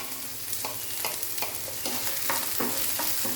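Potato pieces fry on a high flame for a capsicum curry, the steady hiss of hot oil broken by a regular run of spatula scrapes and stirs, close and fairly loud with no voices.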